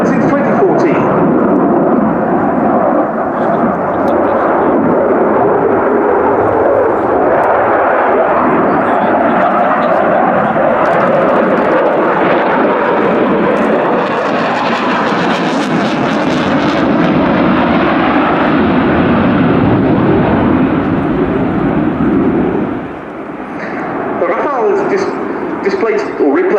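Dassault Rafale jet fighter in a flying display at the Royal International Air Tattoo, Fairford: a loud continuous jet roar that swells toward the middle and drops away near the end.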